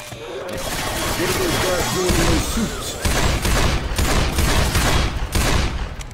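Rapid bursts of automatic Uzi gunfire in Left 4 Dead 2 crackle loudly and continuously, with a few sharp booms, over game background noise.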